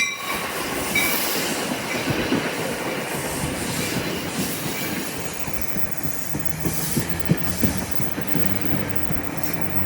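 A freight train with a distributed power locomotive rolls past close by, with a continuous heavy rumble of wheels on rail, rhythmic clickety-clack and occasional wheel squeal.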